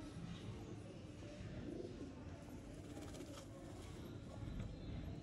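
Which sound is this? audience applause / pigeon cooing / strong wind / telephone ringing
pigeon cooing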